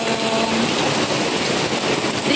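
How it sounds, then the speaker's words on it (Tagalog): Heavy rain pours steadily outdoors on a street, a dense, loud, even hiss of downpour with no pauses or voices. "Umulan ngayon ng malakas. Medyo malakas na yung ulan niya."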